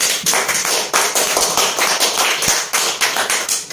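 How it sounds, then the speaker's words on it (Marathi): An audience at a marketing prize draw applauding the last winner of a steel single-burner stove, a dense burst of clapping that pulses in uneven waves for several seconds, fairly loud and without speech. "एकदा जोरदार टाळ्या वाजवा याच्यासाठी"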